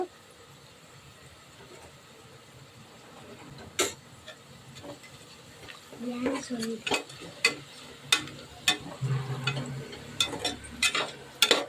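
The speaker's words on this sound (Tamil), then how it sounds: "இப்போ நம்ம இந்த எண்ணெயிலேயே வந்துட்டு மிளகாத்தூள் போட்டுக்கலாம்." Chili powder frying and being stirred in oil with onions, a soft sizzle under a growing series of scraping spoon strokes and clinks against the pan, becoming brisker and more rhythmic toward the end.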